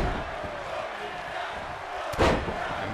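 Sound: arena crowd in WWE 2K23 video game

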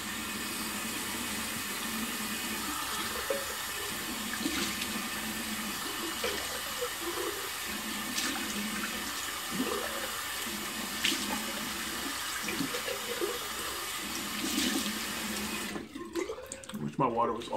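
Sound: cold water running from a tap

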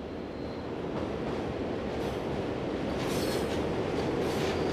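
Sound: Class 62 locomotive arriving with freight train in Diest Yard

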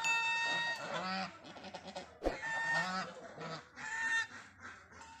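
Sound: swans calling in a village

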